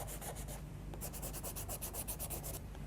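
A Derwent charcoal pencil shades across paper in quick repeated strokes, a close dry scratchy rubbing that comes in rhythmic bursts, with a brief pause before a faster series.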